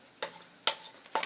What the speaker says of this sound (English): Now we'll cover it and take a spoon and stir.